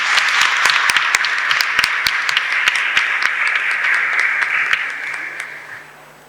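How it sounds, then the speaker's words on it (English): An audience at an International Women's Day celebration in the Bombay High Court applauds. Sharp individual claps stand out within the steady clapping, which fades out over the last second or two, with a faint hum underneath. "May I have a big round of applause for Ms. Tatke, please?"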